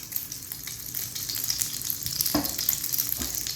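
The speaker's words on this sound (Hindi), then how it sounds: "पैन ले लिया है, अब इसके अंदर मक्खन डालते हैं अच्छे तरीके से।" Butter melting and sizzling in a pan over a low flame while making French toast, a steady close frying hiss with a couple of brief crackling bursts and no talking.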